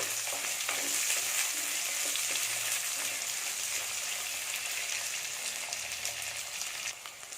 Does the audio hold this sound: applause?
no